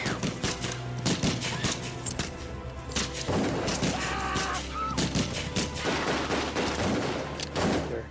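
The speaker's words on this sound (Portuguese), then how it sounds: "E foi então que eu ouvi os disparos." Rapid bursts of gunfire crack repeatedly over a dense, noisy background near a small airplane at Jonestown, loud and close, with a steady barrage throughout.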